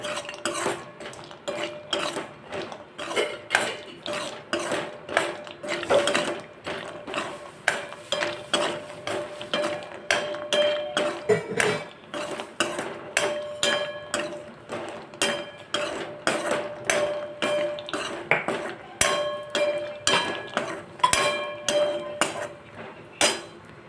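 Cashews roast in ghee in a pan over a medium flame, stirred with a utensil that clinks and scrapes against the metal in a brisk, regular rhythm, close and fairly loud, with no talking.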